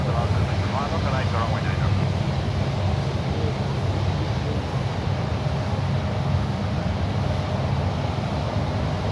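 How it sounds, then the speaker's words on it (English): An American Airlines Dreamliner from Los Angeles comes in on approach, a steady distant jet rumble sitting under the general noise at a constant level. "We also have an American Dreamliner from Los Angeles coming in."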